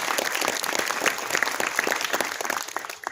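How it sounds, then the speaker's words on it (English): Applause from a keynote audience at a university professional night with industry, dense clapping sustained for about three seconds before tapering off at the end. "let's give them a round of applause again"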